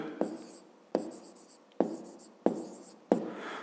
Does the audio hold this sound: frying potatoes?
no